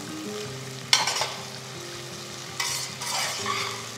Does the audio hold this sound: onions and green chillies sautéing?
yes